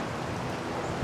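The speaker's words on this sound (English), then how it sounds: "It's getting windy, huh?" Steady outdoor wind roars and buffets against the microphone, a continuous broadband rush with no voices present.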